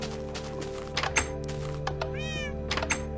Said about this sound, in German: Hallo Katzen.